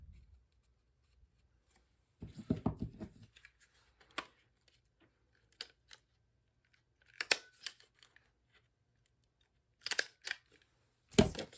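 Paper for a handmade card is folded and trimmed, heard as a few close, separate bursts of paper rustling and cutting snips spread across a mostly quiet stretch.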